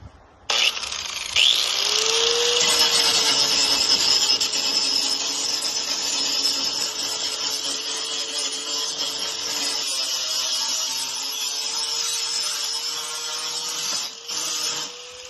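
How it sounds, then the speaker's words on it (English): Hand grinder fitted with a stone wheel grinding rough slag off a metal hanger, a steady loud abrasive whine with a tonal hum that holds for about fifteen seconds, close up and continuous with no speech. "So this is a simple tool, just a hand grinder with a stone wheel on it."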